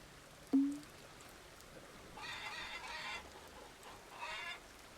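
Chickens cluck in two short bursts after a sharp synthetic blip in the video game Farmer's Dynasty, fairly quiet against a soft background hum, no voices.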